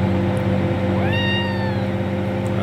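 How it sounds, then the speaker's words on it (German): A cat gives one clear, rising meow near the middle over a steady low engine hum from a farm vehicle, with no talk. "Katze."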